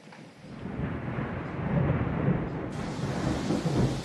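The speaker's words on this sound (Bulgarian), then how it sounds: "Стотици светкавици се изсипват над Скопие и околността." A summer thunderstorm over Skopje rumbles with deep rolling thunder and steady rain, a loud continuous wash of storm noise with no voices.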